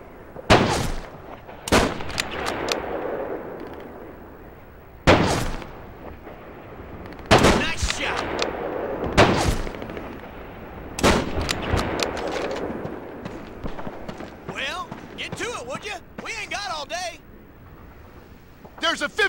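Gunfire rings out in the World War II shooter Call of Duty 2: Big Red One. Loud bursts and single shots crack repeatedly and echo over a rumbling battle din, with voices shouting now and then.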